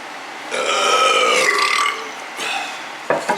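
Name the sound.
burp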